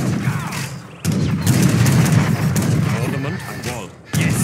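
Bombard artillery and gunfire boom repeatedly across a battlefield in Age of Empires 3, loud overlapping cannon blasts and musket volleys in a dense, continuous barrage with voices mixed in.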